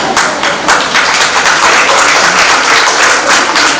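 Applause from the audience at a book launch event, steady broadband clapping that stays loud and dense for the whole stretch with no voices over it.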